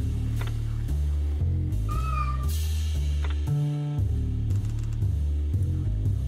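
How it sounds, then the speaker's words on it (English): A cat meows in the video game Lone Survivor, a short plaintive call rising over a looping low synth soundtrack with soft game effects. "after the first time you feed the cat's now hanging out nearby."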